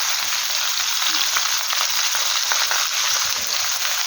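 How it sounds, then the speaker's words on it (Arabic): Chicken thighs and small chopped onion pieces sauté in a hot pan, a loud dense continuous sizzle with faint stirring crackle throughout, no talking. "فاثناء بقى الوراك دي ما بتتشوح كده من تحت هننزل عليها ببصلايه صغيره كده مقطعه حتت صغيره"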